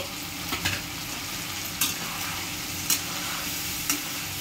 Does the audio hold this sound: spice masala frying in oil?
yes